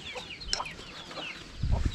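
Chickens cluck in a Tripura community village in the hills: a handful of short, fairly close clucks scattered across the moment, with a louder, low-pitched flurry of clucking near the end.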